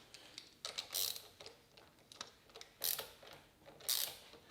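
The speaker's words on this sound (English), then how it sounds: "you can just sort of thread your way into it right away" A bolt is threaded into a threaded plate on a TTR230 clutch lever, giving faint, close clicking and ratcheting bursts at irregular intervals, soft and intermittent against quiet.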